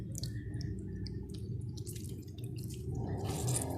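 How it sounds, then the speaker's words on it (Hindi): Water from homemade mozzarella cheese squeezed in a cloth drips and trickles steadily, close and fairly quiet, with no talking. "ताकि इसको दबा के इसका अंदर से अच्छी तरह से पानी जो है, इसका एक्स्ट्रा पानी वो सारा निचड़ जाए"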